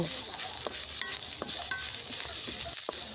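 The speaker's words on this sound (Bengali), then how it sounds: "এইবার চিলি ফ্লেক্সড বা শুকনো মরিচের গুঁড়ো দিয়ে দু মিনিট ভালো করে নাড়াচাড়া করে নেব" Home-grown leafy greens stir-fried with garlic and dried chili flakes, a close sizzle punctuated by repeated spatula scrapes and taps against the pan at an irregular pace.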